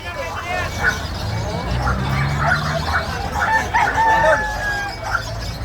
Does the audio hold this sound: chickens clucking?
yes